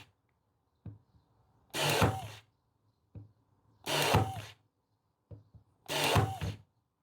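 A Jumlee cordless battery brad nailer drives 20 mm pins into wood three times, each shot a short thunk followed by a loud whirring mechanism burst of about half a second, evenly spaced and close, with no talking.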